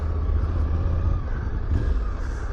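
A Suzuki V-Strom 800DE motorcycle on its first ride gives a steady, loud, low engine rumble mixed with wind roar, heard close and continuous throughout.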